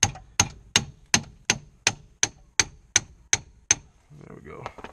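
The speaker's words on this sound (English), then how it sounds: "I'm just gonna hammer it." Eleven sharp, ringing metal-on-metal hammer strikes on the subframe of a 2001 Chevy Cavalier land in a steady rhythm, close and loud, followed by faint rustling.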